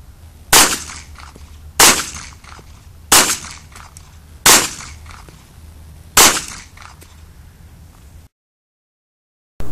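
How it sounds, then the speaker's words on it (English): Five sharp pistol shots from a Walther PK380 ring out at an even pace about a second apart, each loud and close with a short echo tail, then silence. "All right, 5 shots in 10 seconds."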